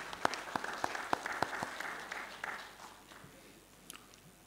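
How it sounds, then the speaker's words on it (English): Applause from the audience at a live-streamed PERL Nigeria event greets the Minister of Information and Culture's representative: sharp separate claps that start rhythmic and loud, then blur into a fainter, thinning patter. "A round of applause, please."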